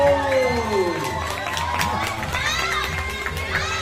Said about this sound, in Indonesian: Boleh disambut tepuk tangan juga untuk mereka itu